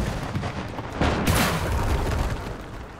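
A tank cannon fires in the World War II video game Gates of Hell during a long-range tank battle, a heavy booming blast that rises suddenly from rumbling background battle noise and slowly dies away.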